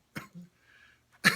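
Two short, sharp coughs come close and clear, with a faint rasping breath between them in an otherwise quiet room.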